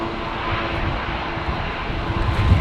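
A Jetstar Airbus A321neo on its take-off roll from runway 19 left at Brisbane, bound for Melbourne; a loud, close, continuous engine roar builds in strength without any talk.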